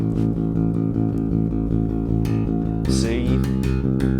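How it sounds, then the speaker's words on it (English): A bass guitar plays repeated power chords in a steady, thick, loud rhythm, with a brighter percussive burst and a slight shift in the pattern toward the end. "we could play a power chord"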